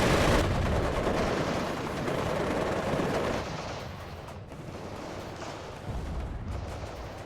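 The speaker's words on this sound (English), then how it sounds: "See that tank there taking shots." Tank gunfire in the WARNO strategy video game, a dense roar of overlapping cannon and gun blasts, loud at first and then thinning to scattered distant shots, with no talking.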